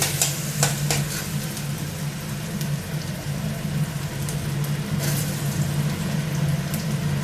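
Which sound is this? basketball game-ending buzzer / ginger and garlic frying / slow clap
ginger and garlic frying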